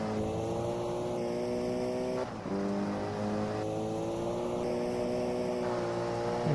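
A race car engine in the GT Legends driving game screams at full throttle, its steady high drone stepping up through the gears in a few smooth rising climbs, loud and close with no talk.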